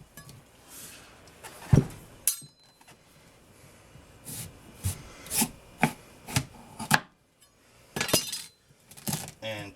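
A knife works through a whole pumpkin on a cutting board, with a series of sharp, irregular thuds and cracking strokes, some louder than others, separated by brief quiet gaps and faint handling rustle.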